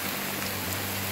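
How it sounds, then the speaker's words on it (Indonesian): Rain falls steadily on a mountain hiking trail on Gunung Sangar in Bandung, a soft, even patter that is close and continuous, with no voices. "Hujan cuy, jalan kan semakin licin."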